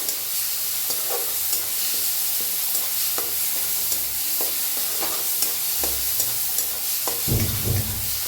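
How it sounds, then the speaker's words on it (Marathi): Cooked mutton roasts in a pan with cumin, giving a loud, continuous sizzle with intermittent scraping knocks of a spoon stirring the meat, close up and without talk. "मटण बनवून घेतलं होतं ते आता याला भाजून घेऊया"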